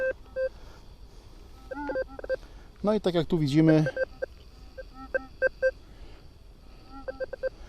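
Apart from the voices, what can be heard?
metal detector signal tone in mix mode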